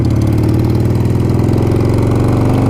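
A Harley-Davidson Sportster motorcycle engine runs steadily at a loud, close, even idle, its lumpy low pulses throbbing throughout with no speech.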